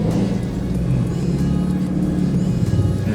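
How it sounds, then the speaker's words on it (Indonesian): A large bus drives along a narrow road near Jogja, its engine giving a steady, close, heavy rumble with a faint whir on top and no voices over it. "Dan busnya gede banget."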